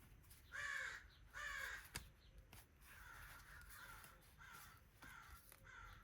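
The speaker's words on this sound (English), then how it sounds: "My goodness, my crows are outside." Crows caw outdoors in several harsh, drawn-out calls, faint and distant, with a quiet room and small handling noises in the foreground.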